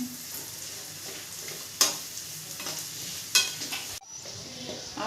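Carrots, beans and onion stir-fry over a high flame, a steady broadband sizzle with a few sharp utensil scrapes and clanks as the vegetables are tossed, close and continuous.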